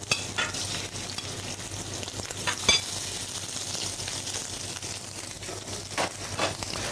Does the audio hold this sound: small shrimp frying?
yes